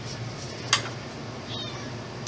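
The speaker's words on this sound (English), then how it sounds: "that is a cat." A cat meows a couple of times indoors during a PC build, short nasal cries standing out over a low steady background hum, fairly close but not loud.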